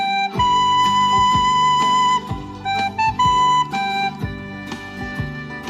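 A tin whistle played poorly, giving a wavering, uneven melody of clear sustained notes with breaks and abrupt note changes, close and fairly loud, heard alone.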